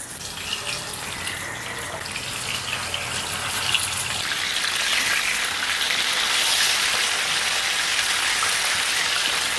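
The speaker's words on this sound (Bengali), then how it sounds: "আমি ইলিশ মাছটা ভেজে নিচ্ছি" Small hilsa fish coated with salt, turmeric and a little chili frying in oil, giving a dense, bright, hissing sizzle that holds steady and swells a little over several seconds, with no speech.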